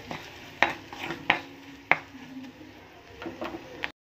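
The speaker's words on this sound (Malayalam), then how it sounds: "എന്നിട്ട് നന്നായി ഒന്ന് ഇളക്കണം." A spoon stirs prawn curry masala with crushed chilli in a pan, giving several distinct scraping knocks against the metal over a quiet sizzle, then a few lighter strokes before stopping.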